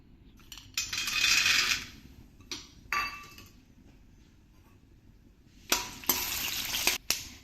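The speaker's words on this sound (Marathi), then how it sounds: "आपलं तेल तापलं की आपल्याला आधी शेंगदाणे त्यात तळून घ्यायचे आहेत।" Peanuts fry in hot oil in a pan for Nagpuri tarri pohe: several bursts of loud sizzling with sharp clinks, separated by quieter stretches of low crackle.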